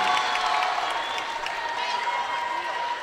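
A basketball arena crowd roars and cheers steadily during a game, a dense, sustained wash of noise from many voices, with a commentator talking over it.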